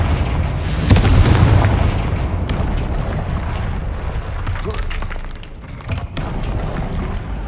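A Confringo blasting spell explodes in the Hogwarts Legacy video game, a loud booming burst that rolls into a dense, sustained rumble with further sharp cracks, heard alone without talk.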